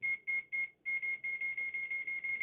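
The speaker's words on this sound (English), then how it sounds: "The closer we get, see, the faster it beeps." A Klein-style NCVT2 dual-range non-contact voltage tester beeps close and clear: a single steady tone broken into short pulses that speed up until they merge into an almost continuous beep, with no speech.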